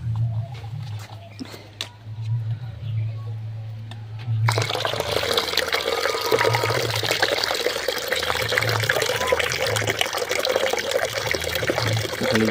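After a few seconds of low hum, water mixed with fertilizer starts pouring steadily and keeps splashing and trickling without a break.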